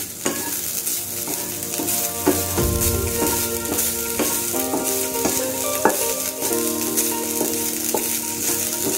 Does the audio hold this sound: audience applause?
no